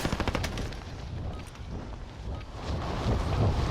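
AK-47 gunfire in the video game Warzone: rapid bursts of automatic shots crackle at the start, then a dense, wind-like wash of battle noise continues steadily throughout, with no talking.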